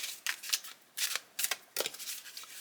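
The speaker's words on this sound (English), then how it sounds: "So I'm just shuffling here" A tarot card deck is shuffled close up in quick, papery bursts that repeat several times with short pauses between, quiet and with no talk.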